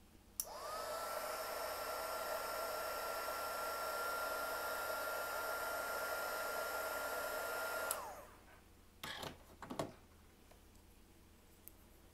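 A hair dryer blows on wet watercolor paint, switching on with a click, running as a steady close whir with a constant tone for about eight seconds, then clicking off, followed by a few faint handling sounds.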